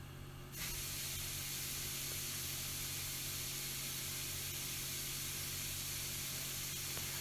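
Onion and about ten garlic cloves sauté in a pan with a bright, constant sizzling hiss that starts abruptly after a brief quiet moment and then holds steady and close.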